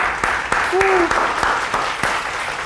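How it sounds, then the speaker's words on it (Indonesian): A studio audience on an Indonesian TV talk show claps in a steady burst with a few sharper individual claps standing out, and a brief whistle-like tone rising over it near the start. "Tepuk tangan dong!"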